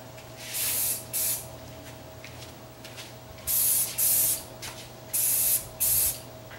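Spray gun laying an acrylic coat on a refurbished table set flat, heard as four paired bursts of loud hissing spray with short gaps between, over a steady low hum.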